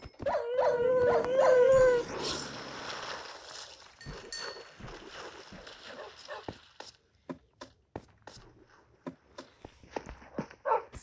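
Dogs in a video game overrunning a mansion, a sustained howl and barking up front, then fading into scattered sharp clicks, thumps and faint yips.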